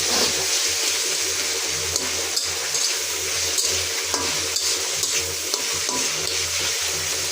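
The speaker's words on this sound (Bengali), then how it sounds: "চিংড়ি মাছগুলোকে তেলের মধ্যে আমি কিছুক্ষণ ভেজে নেব" Tiger prawns, seasoned and dropped into hot oil, fry with a steady, dense sizzle and crackle that runs without a break, punctuated by occasional stirring scrapes and no talking.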